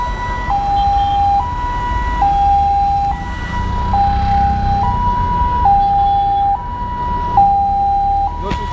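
An ambulance siren alternates steadily between two tones in a two-tone wail, loud and close, over a rumbling road vehicle during a burial procession.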